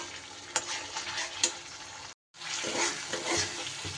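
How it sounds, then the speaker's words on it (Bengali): Spices sauté in oil with a steady close sizzle, stirred with occasional scraping taps, a brief silent gap midway, then more frying and stirring. "সুন্দর করে যতক্ষণ পর্যন্ত মশলাটা না কষানো হচ্ছে, তেল ছেড়ে দিচ্ছে, ততক্ষণ পর্যন্ত কিন্তু মশলাটা কষিয়ে নিতে হবে।"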